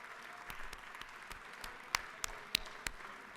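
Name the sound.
legislators' applause in the chamber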